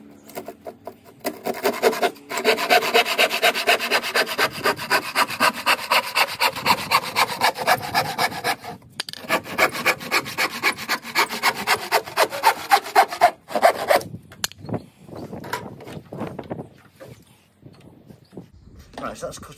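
A handsaw cuts through wood for a small shelving unit in steady back-and-forth strokes, loud and close, with a brief pause midway and a slower, broken finish as the cut ends; no talk over it.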